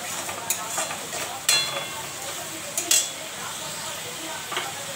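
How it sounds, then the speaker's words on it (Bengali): A spice paste is stirred and sautéed in a pan: a soft background sizzle broken by several sharp scrapes and clinks of a spoon against the pan. "এবার ভালো করে কষিয়ে নেব"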